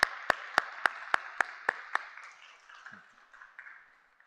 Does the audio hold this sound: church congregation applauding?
yes